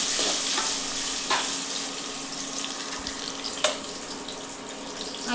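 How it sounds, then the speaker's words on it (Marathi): Fenugreek seeds, cloves and black peppercorns frying in a pan, a steady close hiss of hot oil with a few faint scrapes and taps of a spoon, no talking. "त्यानंतर आपण मेथीचे दाणे टाकूया, लवंग मिरे, हे थोडं परतून घ्यायचं"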